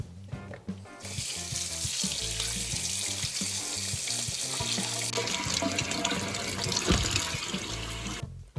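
Tap water runs steadily into a sink while pig ears are scrubbed clean, a dense continuous splashing rush that shifts in tone as the ears move under the stream, with a low rhythmic thumping in the background.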